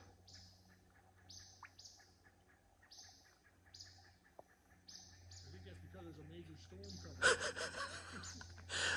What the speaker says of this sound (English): The birds are starting to be more vocal.